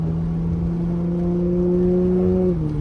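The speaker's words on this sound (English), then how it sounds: "Listen to my car. I'm barely tapping the gas. I'm doing 39 miles an hour" A V6 car fitted with 5-inch exhaust tips drives at around 39 mph under light throttle, its steady low exhaust drone holding a near-constant pitch before easing slightly at the end, heard from inside the cabin with no talking.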